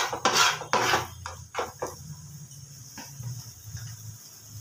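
A spatula breaks scrambled egg into crumbs in a pan for egg chicken fried rice, giving sharp scraping clatters at first, then lighter intermittent scrapes and taps over a low sizzle.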